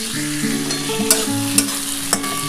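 Green chillies fry in hot oil in a pan for egg tadka, a close, steady sizzle with a few sharp stirring clicks from a spoon against the pan.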